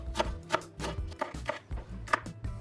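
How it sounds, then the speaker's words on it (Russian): A knife finely chopping green onion on a board, about seven crisp, fairly loud chops in an uneven rhythm, close by with no talk. "Мелко порежу зеленый лук."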